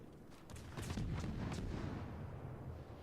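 Several deep booming naval gun blasts from warships in World of Warships roll out in quick succession, heavy and muffled, fading into a lingering rumble.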